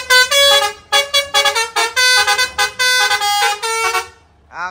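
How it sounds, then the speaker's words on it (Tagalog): Loud, close dump truck stock air horn blasts in a rapid series of short and longer toots, harsh and brassy like a train horn, with no talking. "Yan yung busina stock. Parang train horn."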